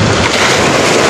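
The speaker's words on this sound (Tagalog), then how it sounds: "Yan pa rin ang alon" Sea waves churn around a small fishing boat out at sea in the Philippines, a loud, continuous wash and rumble mixed with gusting wind buffeting close to the microphone.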